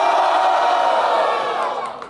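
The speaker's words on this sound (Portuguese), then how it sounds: "Barulho pra quem gostou das rimas de Kilua!" Crowd at a street rap battle in Brazil roars and cheers loudly for a rapper, a dense wall of shouting voices that holds steady then tapers slightly at the end.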